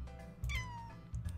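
Cat meowing in the Doggie Dash video game, a single short quiet meow over a faint game background.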